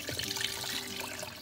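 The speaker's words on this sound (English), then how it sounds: "Now I'm going to add the water." Water pours steadily into a pot of cooked ground turkey keema for a biryani, a continuous splashing rush close by with no talk.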